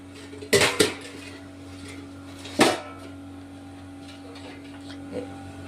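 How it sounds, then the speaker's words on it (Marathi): Metal lid lifted off a momo steamer pot, two bright metallic clanks close together followed by a second louder clank, then a faint clink, over a low steady hum. "याच्यावरचं झाकण काढलेलं आहे."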